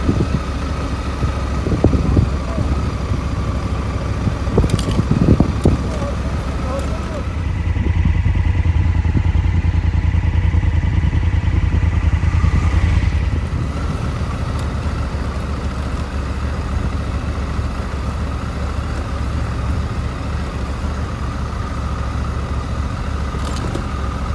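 A BMW G 310 GS motorcycle rides off-road over rough terrain, its single-cylinder engine droning steadily close by with clattering and rattling bumps, rising to a louder, fuller roar midway before easing back, no voices.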